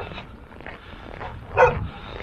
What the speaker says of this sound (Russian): Собаки встретились.